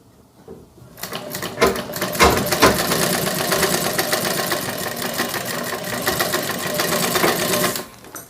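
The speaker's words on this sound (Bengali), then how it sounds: "তো এখানে আমি সেলাই শুরু করলাম।" A sewing machine stitches a child's fabric face mask, its needle running in a steady close-up mechanical chatter that starts after a brief quiet moment and continues loudly until it stops near the end.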